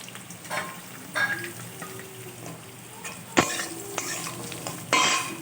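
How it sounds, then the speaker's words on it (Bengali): Pumpkin pieces fry in hot oil with a steady sizzle, broken by several sharp scraping strokes of a spatula stirring in the pan. The sounds are close and fairly quiet. "তো তেলটা গরম হলে আমি প্রথমে দেব কুমড়োটা কুমড়োটা তেলের মধ্যে একটু নাড়াচাড়া করে"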